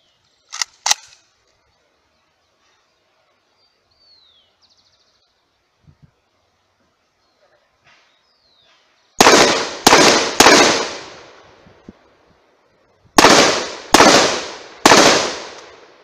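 A Galil Córdova MAR rifle in 5.56x45mm (.223 Rem) fires six sharp, loud shots in two quick bursts of three. A few small metallic clicks and handling sounds come first, and each crack rings out briefly.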